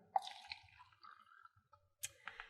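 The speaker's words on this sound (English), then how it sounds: "You're going to fill each of your cups to the 2/3 mark on your measuring cup of water. And you're going to pour it in your cup." Water from a measuring cup is poured into a cup while preparing Easter egg dye, heard as short, close dripping and splashing spurts with brief quiet gaps.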